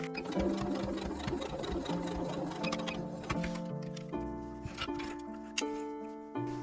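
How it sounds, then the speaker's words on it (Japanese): Sewing machine stitching a seam about 5 mm in on a small patchwork pouch, a close, fairly quiet running whir with varying pitch and a few knocks and ticks. "5ミリのところを縫っていきます。"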